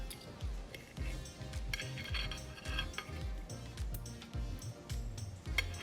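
A fork and fish spoon scrape and clink against a roasted petrale sole and its plate while its spine is lifted out, a string of small metallic taps over a low kitchen rumble.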